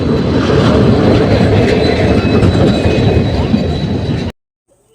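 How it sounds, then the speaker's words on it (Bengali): A passenger train pulls into a station with a loud, close, steady rumble and rattling carriages, plus a faint metallic squeal, before the sound cuts off abruptly. "তারপর ট্রেন এসে পড়লো, আর আমরা ঝটপট ট্রেনে উঠে পড়লাম।"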